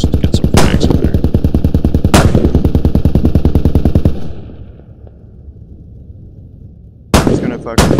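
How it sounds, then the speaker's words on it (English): Rapid, loud automatic gunfire in a multiplayer shooter video game, bursts of close repeated shots that stop midway, leaving a dull quiet, then resume abruptly near the end. "I'm just gonna fucking shoot as much as I can."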